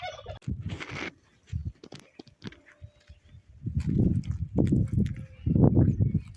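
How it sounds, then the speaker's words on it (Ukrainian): An angry turkey gobbles in several loud, rattling bursts close by, with shuffling and a few scattered knocks between calls. "Сердиться гіндюк, чуєш?"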